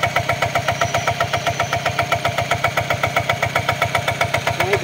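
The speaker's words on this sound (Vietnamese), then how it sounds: "Máy chạy quá chìm nè, tiếng tích luôn á." A Zanma NFA 60 motorcycle engine idling close by, running very quiet, a steady fast rhythmic putter with a slight ticking, no voices.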